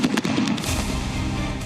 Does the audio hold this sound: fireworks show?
yes